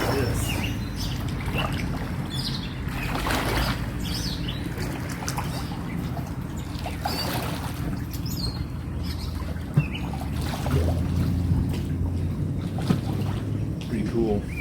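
A board is paddled along the Nolichucky river: a continuous wash of moving water with soft splashing strokes, steady and close, with faint bird chirps in the background.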